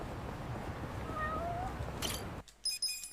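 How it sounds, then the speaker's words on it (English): Cat meowing in the video game Yakuza: Like a Dragon, a couple of short rising mews heard faintly over busy game background noise before the sound cuts away. "And now I'm going to go find some cats."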